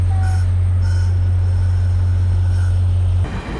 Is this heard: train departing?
yes